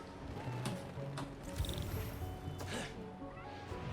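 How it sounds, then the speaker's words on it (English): A cat character meows in the video game Spider-Man: Miles Morales, a few short calls over a busy game soundtrack. "It's okay, we have Spider-Cat"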